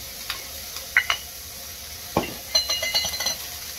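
Food fries quietly in a pan, a soft steady sizzle broken by a few utensil scrapes and light clinks, ending in a short run of stirring knocks.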